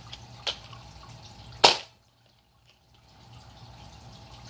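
A Nerf Rival Overwatch Magnus blaster fires once, a sharp, loud close snap preceded by a smaller click, then near silence.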